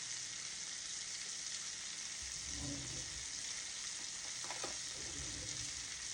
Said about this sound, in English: I'm gonna just baste it a little bit more to make sure that that butter is infused.